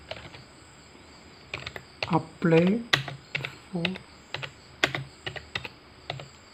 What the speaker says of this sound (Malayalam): അപ്പോൾ ഞാൻ ജസ്റ്റ് ഒന്ന് ടൈപ്പ് ചെയ്യണം